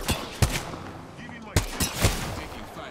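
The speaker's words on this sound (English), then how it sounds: "Signaling an airstrike." Gunfire and an incoming airstrike in the battle royale game Apex Legends, heard as several sharp loud blasts and reports spread across a few seconds over a busy game soundscape.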